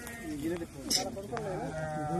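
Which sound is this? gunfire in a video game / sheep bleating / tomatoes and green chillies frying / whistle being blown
sheep bleating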